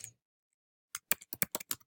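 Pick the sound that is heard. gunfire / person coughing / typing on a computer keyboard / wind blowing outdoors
typing on a computer keyboard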